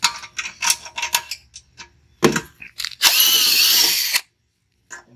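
A power drill loosening bolts on a Toro Recycler 22-inch lawn mower: clicks and handling clatter, then a loud, close whir of about a second before it stops, with one faint tap after.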